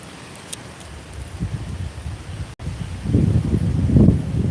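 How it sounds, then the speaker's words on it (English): Strong wind gusts outdoors on a fishing trip, a steady low rumbling buffet that swells louder and rougher in the final seconds, with no voices. "It's really windy out today"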